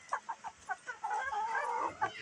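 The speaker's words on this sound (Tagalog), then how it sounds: "Andito yung mga manok ko." Chickens cluck close by in a quick series of short, rhythmic clucks, then a longer drawn-out cackle, with a few more clucks at the end.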